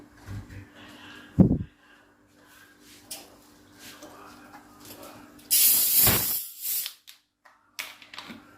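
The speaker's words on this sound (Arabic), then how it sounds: "احط عصير الليمون المركز، وبعد كده انزل بالسفن" 7Up soda poured over concentrated lemon juice for a mojito drink, a loud rushing fizzy hiss lasting about a second amid quieter clinks, with talk in the background.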